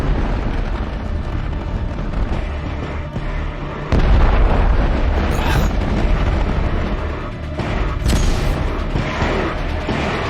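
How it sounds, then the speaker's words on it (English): Weapons fire and explosions from the TV series The Expanse: a dense, loud, continuous barrage of booming blasts and rumbling impacts that swells midway, with sharp bursts on top, filling the whole stretch without audible talk. "They're firing on us again!"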